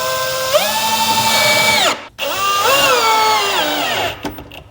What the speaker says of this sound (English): get it centered with my mark, drive the screw home